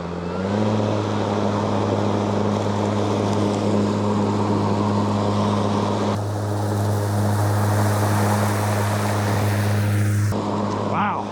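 A Ryobi self-propelled lawn mower runs in turbo mode, a loud, steady engine drone with a strong low hum close by that shifts pitch partway through and cuts off near the end.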